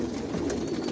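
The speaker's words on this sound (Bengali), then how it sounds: "আর এগুলো সব বিদেশি কবুতর" Imported racing pigeons of a Janssen line coo inside a loft, a soft, low, throaty murmur with steady layered calls from nearby birds, heard alone and briefly.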